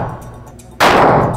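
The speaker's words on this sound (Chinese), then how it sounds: "然后看他哪一种枪能把后面的这4个靶全部打掉" A gun fired at an iron target on a shooting range: one loud, sharp blast with a metallic clang that cuts in abruptly after a quieter stretch and rings out briefly.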